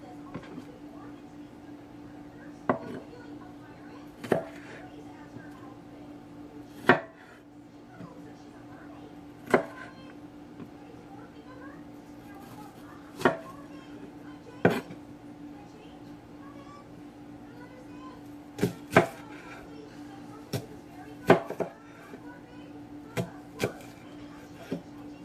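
Knife slicing through onions on a cutting board while stuffing is being made, giving scattered sharp chops at an irregular pace over a steady low kitchen hum.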